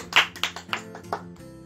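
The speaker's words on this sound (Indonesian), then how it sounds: "Beri tepuk tangan terlebih dahulu" Students in a grade 5 elementary classroom clap briefly: a handful of separate, sharp claps that slow down and fade, ending after about a second.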